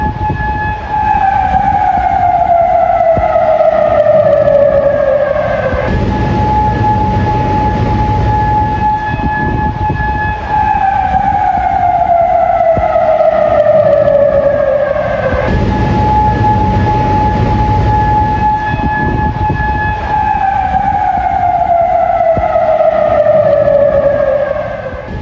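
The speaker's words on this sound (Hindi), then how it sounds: "सायरन बजते हुए सुनाई दिए हैं" Loud wailing air-raid siren in Kuwait after Iranian attacks, rising and falling in long slow sweeps, repeating about every ten seconds over a low background rumble.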